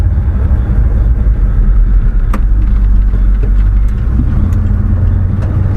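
A turbocharged Chevy truck engine rumbles steadily while driving, a loud, close, low drone from inside the cab with faint clicks and no talking.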